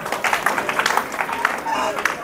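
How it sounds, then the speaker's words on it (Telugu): An audience at a motivational speech claps hands together in quick, uneven bursts, moderately loud and mixed with voices. "అందరు చప్పట్లు కొట్టుకు వాడాలి"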